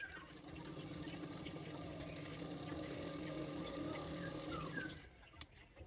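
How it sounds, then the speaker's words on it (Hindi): Sewing machine stitching along the neckline of a princess-cut blouse, a fast steady whirring run of needle strokes that stops near the end, quiet and close. "नेक के किनारे किनारे पे मैं सिलाई करूँगी।"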